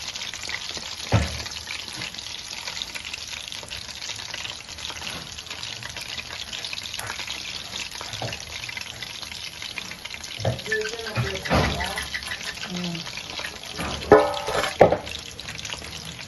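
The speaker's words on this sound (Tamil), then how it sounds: "சிக்கனை ஃபுல்லாக பொரிச்சு எடுத்தாச்சு." Chicken lollipops deep frying in oil, a steady hissing sizzle throughout with occasional clinks and stirring sounds near the end.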